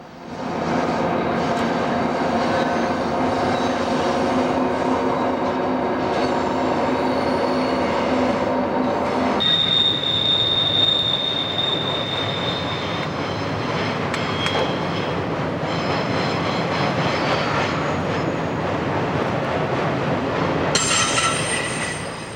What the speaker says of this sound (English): The blanket of fog can't slow the progress of this westbound general merchandise train